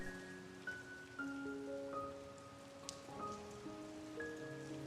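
Steady rain falls as a soft, continuous hiss in the background, sitting beneath gentle sustained tones of calm meditation music.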